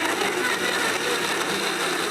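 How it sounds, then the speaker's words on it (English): A blender whirs steadily, blending strawberries with sweet custard into a dessert, a dense continuous motor roar with no pauses and no talking. "Now I'll just get the lid on, let the blender go."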